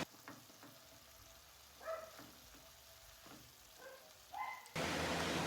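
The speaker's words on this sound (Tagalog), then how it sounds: "Haluin natin pero wag natin hayaan na magdikit-dikit po ito." Ground pork crackles softly in a pan while a utensil scrapes and stirs it in several short strokes, then the sizzle suddenly swells loud and continuous at the end.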